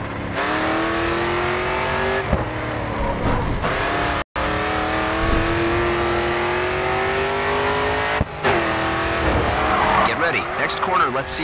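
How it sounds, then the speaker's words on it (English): A car drifts in the Grid 2 racing game, its engine droning and revving while the tires squeal through a long slide, with a brief cut and a narrator speaking over it. "Let's move on to some drifting."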